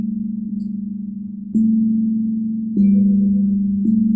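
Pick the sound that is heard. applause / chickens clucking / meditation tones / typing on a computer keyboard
meditation tones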